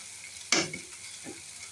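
A spoon stirs a pan-roasted bean, potato and tomato curry with coriander leaves, giving one sharp scrape followed by a soft fading sizzle and a second lighter stir.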